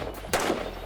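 Two sharp, loud gunshots from a Colt Combat Unit M4 rifle with a flash suppressor crack close by at a shooting competition, spaced well apart with a short ringing decay after each.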